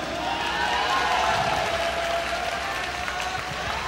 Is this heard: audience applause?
yes